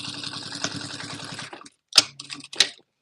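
A domestic sewing machine stitches a canvas and cotton bag in a fast, even rattling run, then stops and gives a few short isolated clunks and whirs.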